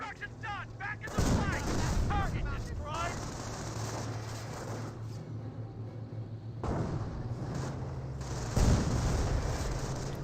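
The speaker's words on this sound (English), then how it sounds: "Sniper taking some shots here." Gunfire in the World War II strategy game Company of Heroes, with a sniper firing among repeated sharp rifle and artillery bursts over a constant battle rumble, several loud shots standing out; a commentator talks through it.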